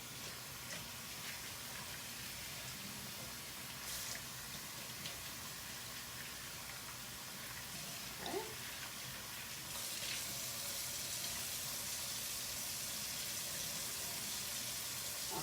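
Water runs steadily in a sink while a hair weave bundle is rinsed, a faint, continuous hiss that swells slightly near the end, with no voices.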